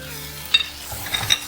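Spice powders frying in hot oil in a pan for Malabar-style mutton varattiyathu, a soft sizzle with a few brief stirring scrapes and clinks, close up and quiet.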